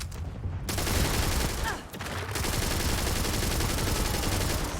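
Rapid gunfire in the space game Starfield, a loud, dense fusillade of shots that runs almost continuously, with a brief dip partway through before the firing resumes.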